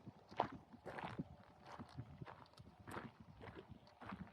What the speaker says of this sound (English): over here on the left side there were horses.